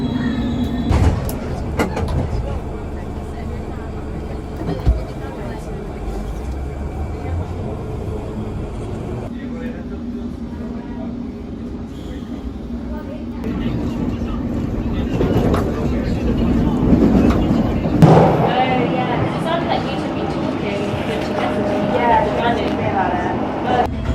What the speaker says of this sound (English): when the train stops, you can jerk forward very fast